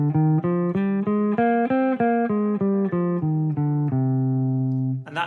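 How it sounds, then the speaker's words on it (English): A C natural minor scale played as a steady run of sustained, evenly spaced melodic notes on a pitched instrument, the final note held longer, heard alone without any talking. "And that is the C natural or the C pure minor."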